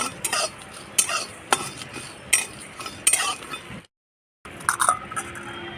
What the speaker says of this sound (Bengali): মশলাটা ভেজে নিচ্ছি